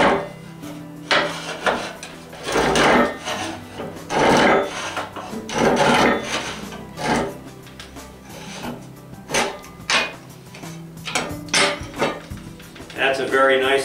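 Slate cutter chopping through a slate tile, a series of crunching, scraping cuts in uneven bursts, close and fairly loud, with someone talking between and over the cuts.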